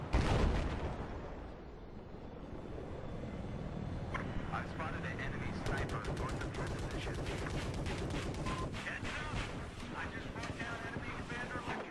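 A helicopter gunner in an attack-helicopter video game fires rapid bursts over a constant engine rumble, with players talking throughout.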